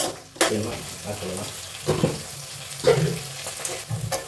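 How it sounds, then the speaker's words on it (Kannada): Onions frying in a pan while being stirred, a steady close sizzle with intermittent scraping and clattering from the spoon and a few louder stirring bursts. "ಅದರ ನಂತರ ಈರುಳ್ಳಿಯನ್ನು ಹಾಕಬೇಕು ಸ್ವಲ್ಪ ಘನ ಬರೋವರೆಗೂ ಅಲ್ಲಾಡಿಸಬೇಕು"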